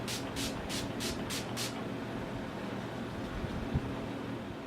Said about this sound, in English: I'm going to use my Urban Decay Chill Makeup Setting Spray.